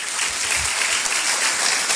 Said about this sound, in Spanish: a quien pido un enorme aplauso nuevamente